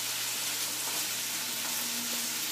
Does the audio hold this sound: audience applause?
no